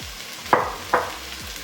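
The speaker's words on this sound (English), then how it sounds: "now that the onions and peppers are softening, we're gonna go ahead and add our sweet kernel corn" Softening onions and peppers with sweet kernel corn sizzle in a pan for Tex Mex egg roll filling, with two distinct stirring scrapes over a constant soft frying hiss.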